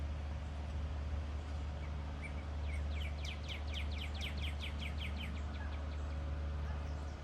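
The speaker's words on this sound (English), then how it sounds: "The birds definitely make it better." Birds sing outdoors in a quiet natural setting, a bright run of rapid repeated chirps rising in the middle over a low background rumble, faint and somewhat distant.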